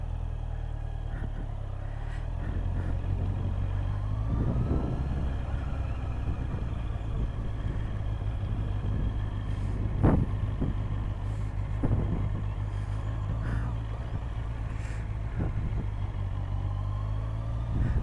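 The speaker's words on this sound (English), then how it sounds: "Let's get this engine going" A motorcycle engine idles and rides through a training test course, a steady low rumble with a few gear-change surges and light clatter, close and continuous with no talking.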